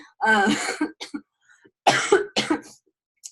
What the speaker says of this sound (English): I feel so bad for coughing like this.